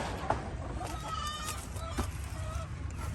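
Soft, intermittent Rhode Island Red hen clucks in a barn-like space, a few short calls scattered over a low steady background hum.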